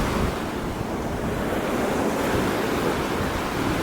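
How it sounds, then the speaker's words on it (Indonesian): Large waves crash and roar continuously on a hidden cliff-backed beach at Gunung Payung in south Bali, loud and close, with heavy wind buffeting the microphone. "Ombaknya ternyata lumayan besar dan sampai menjangkau ke bibir tebing."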